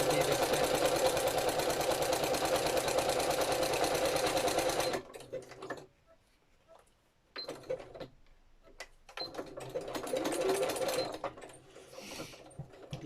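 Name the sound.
sewing machine stitching around a journal pocket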